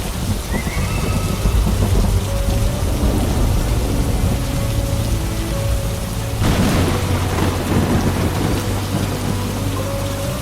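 Heavy rain pours in a dense, constant roar through a thunderstorm, with a deep rumble of thunder swelling partway through and rolling on under the downpour; no voices.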